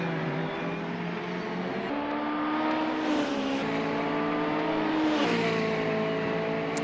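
Alfa Romeo race cars in a championship race on a circuit, engines droning steadily with rising and falling revs as a pack of cars passes by, loud and continuous throughout.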